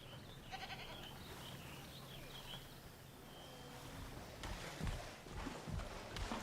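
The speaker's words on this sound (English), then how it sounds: "Oh, there are goats in here." Goats bleat faintly in the Jurassic World video game, a few short distant calls over low ambient game sound, with some soft thumps near the end.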